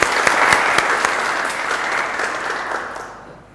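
An audience claps steadily and densely, mid-distance, after a host calls for applause on a Kurdish variety show, with the clapping fading out toward the end.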